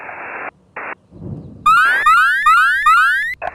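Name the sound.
alarm signal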